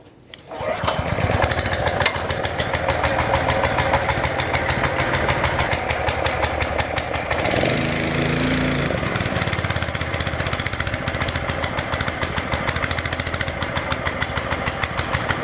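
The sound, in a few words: SCU 100P high-pressure scuba gas compressor running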